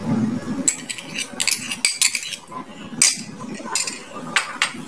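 A spoon clinks against a bowl while yogurt is stirred and beaten for a homemade yogurt recipe, a series of sharp, bright metallic taps in uneven bursts, close and clear, with faint talk in places.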